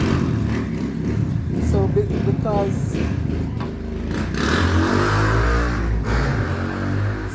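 Vehicle engine revving and roaring past on a nearby roadside, loud and steady with rumble and clatter, heard indoors over a home cooking session with a person talking.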